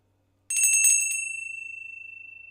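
Small bells ring in a radio studio, a quick bright cluster of strikes followed by one clear tone that fades slowly over a couple of seconds, close and alone.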